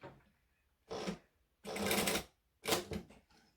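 A sewing machine stitches in three distinct bursts separated by pauses, the middle run longest, close and clear with no talking.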